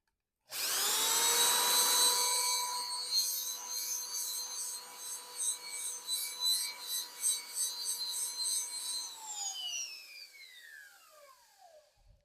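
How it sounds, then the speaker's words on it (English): An angle drill with a buffing attachment whines up and runs steadily against a wooden cutting board with a rubbing rasp, then spins down and stops. "that grit is going to break down as I use my angle drill with a buffing attachment"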